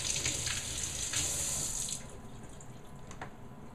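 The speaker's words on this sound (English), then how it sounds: "rinse it off." A red vegetable rinsed under a running kitchen tap, steady hissing water splashing into a sink close by, loudest at first and then easing to a softer flow.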